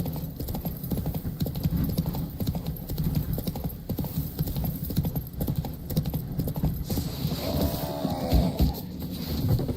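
Rapid, steady clip-clop of horse hooves galloping in The Witcher 3, close and continuous over a low rumbling bed, with a faint whinny-like tone near the end.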